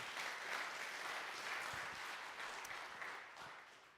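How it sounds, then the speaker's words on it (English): An audience claps steadily at a live gathering, dense applause filling the room for the full few seconds without any talk over it. "Yeah, y'all can clap for that."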